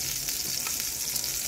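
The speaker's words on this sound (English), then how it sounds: "I'm making some sausages" Sausages fry in a pan with a steady, bright sizzle and a few small pops, heard close and alone.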